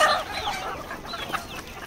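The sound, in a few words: chickens clucking at a poultry farm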